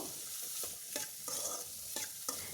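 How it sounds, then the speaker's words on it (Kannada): Onion, garlic and fresh ginger fry together in a pan for chicken sambar, giving a constant soft sizzle broken by repeated scraping stir strokes, with no voices. "ಈರುಳ್ಳಿ, ಬೆಳ್ಳುಳ್ಳಿ, ಹಸಿ ಶುಂಠಿ ಮೂರದೂ ಹಸಿ ಸ್ಮೆಲ್ ಹೋಗೋ ತನಕ ಸ್ವಲ್ಪ ಫ್ರೈ ಮಾಡ್ಕೊಬೇಕು."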